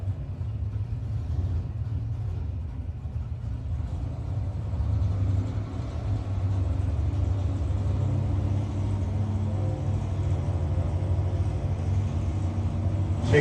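A 2005 Corvette at a no-box drag racing shootout roars as a sustained engine rumble that builds and holds steady down the strip, heard from a distance with no voices.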